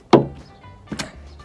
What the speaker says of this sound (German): und die Tür auf.